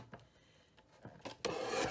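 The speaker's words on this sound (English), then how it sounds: "I want to trim up that bottom edge." Paper note card edge being trimmed for a Halloween invitation, a close scraping rasp that builds to a louder continuous cut near the end, with no voices.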